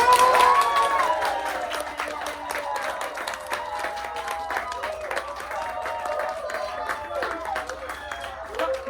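A live audience claps and cheers at an indie comedy-music show, a dense, sustained wash of applause and shouts that starts loud and stays steady throughout, with voices mixed into the crowd noise.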